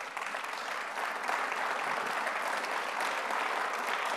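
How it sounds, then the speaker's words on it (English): A congressional dialogue audience breaks into steady, moderately distant applause that holds evenly throughout. "insulting Congress always gets a clap"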